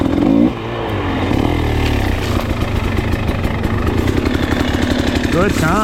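KTM 300 XC-W two-stroke enduro motorcycle ridden on a slick, overgrown trail, engine droning and revving steadily up close with a rising pitch sweep near the end, a brief voice at the start.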